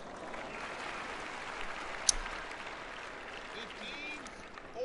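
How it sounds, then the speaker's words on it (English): Spectators in the Tennis World Tour video game clap and cheer after a double fault, a steady, moderately loud wash of applause with a brief sharp peak partway through. "Don't know how I feel about the crowd cheering a double fault."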